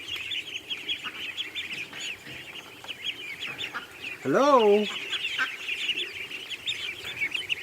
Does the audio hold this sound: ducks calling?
yes